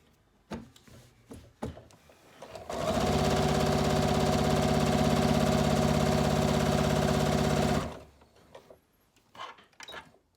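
A sewing machine stitching a quilt along drawn lines runs in one steady, rapid mechanical hum for about five seconds, close and loud, with light handling clicks before and after.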